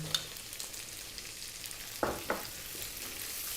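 Onion fries in hot oil with a quiet background sizzle, and a couple of clear stirring scrapes stand out near the middle; no one talks.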